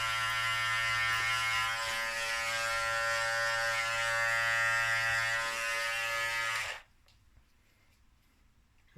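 Andis Master hair clippers trimming a beard at home without a guard, a close, steady electric buzz that runs for several seconds and then cuts off abruptly.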